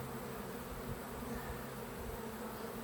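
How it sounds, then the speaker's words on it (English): Honey bees stream out of a smoked backyard hive, a dense, steady buzzing swarm drone filling the whole moment, close and loud with no voices. "look at these bees pouring out of here now"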